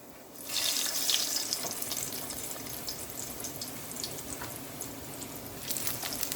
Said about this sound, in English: And just let it fry.